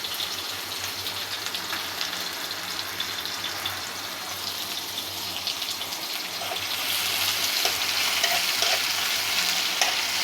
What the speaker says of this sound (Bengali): তেল বসিয়ে দিয়েছি, এখন আমি কিছুটা পেঁয়াজ কুচি দিয়ে দিলাম।